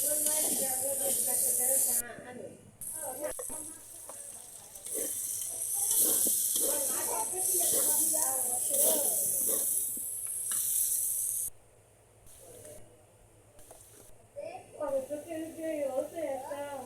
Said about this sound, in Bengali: সেই মশলাটা দিয়ে সুন্দর করে ভাজবে